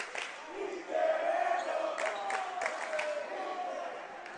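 Home crowd at a college basketball game (William Jessup vs Vanguard) jeering the visiting player whenever he has the ball, a sustained loud mass of voices with shouting and a few claps, steady throughout.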